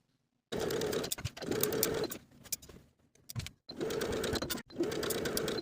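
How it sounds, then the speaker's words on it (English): A sewing machine bastes a jumpsuit bodice to the top of the pant, running close in several steady bursts with short pauses between them and no talking. "Now we can baste the bodice to the top of the pant along the back and the front edges."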